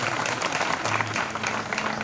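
An audience claps steadily through a stage show, a dense, even patter of many hands with a faint voice underneath.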